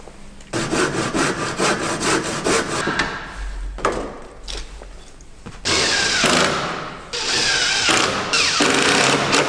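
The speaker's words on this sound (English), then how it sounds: "we're cutting out 170 mm of the batten there" A saw cuts through a wooden roof batten on a solar panel installation, rough rhythmic rasping strokes close by, loud and steady, with brief pauses between bursts of cutting.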